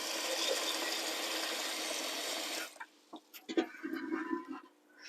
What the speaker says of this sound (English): I'm going to fill up my saucepan with water. Use cold water so that you're bringing it to the boil gradually.